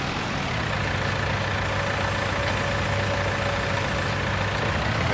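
Tractor engine idling in the video game Farm Simulator, a steady, loud, low diesel rumble that holds at an even level throughout without speech.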